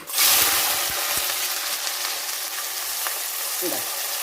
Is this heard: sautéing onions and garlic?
yes